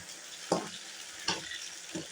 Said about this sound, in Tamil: இப்போ இதெல்லாம் நல்லா கோல்டன் கலரில் வதங்கணும்